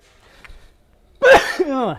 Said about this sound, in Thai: จามเลย ไม่มีตัดต่อ